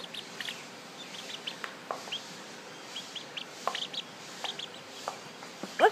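A pet bird chirping indoors, short scattered tweets and clucky calls spaced irregularly, fairly faint and close, with a slightly louder burst at the end.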